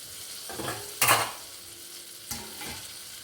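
Paneer cubes fry in a pan for dhaba-style paneer butter masala, giving a soft, steady sizzle broken by a few brief stirring scrapes and utensil clatters near the pan.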